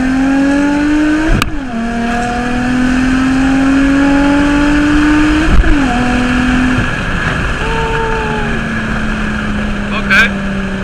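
An Infiniti G35 fitted with a plenum spacer accelerates hard in second gear from about 40 mph, engine note rising steadily with a couple of sharp shifts or throttle lifts, loud and close from inside the car.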